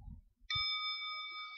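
A bell is struck once in a quiet room during a Buddhist teaching, ringing with a clear, sustained metallic tone that hangs steadily after a few soft low thumps before the strike.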